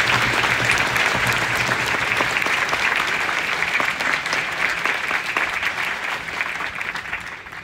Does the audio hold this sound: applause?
yes